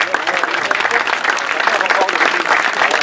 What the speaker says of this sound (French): Encore un tonnerre d'applaudissements à son intention.